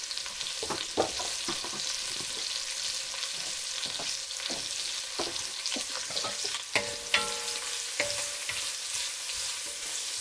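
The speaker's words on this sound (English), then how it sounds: "I'm giving it a bit of a stir to break up the onion slices." Onion slices sizzle steadily in a pan while being stirred, a constant frying hiss broken by scattered utensil scrapes and clicks, close and fairly loud throughout with no talking.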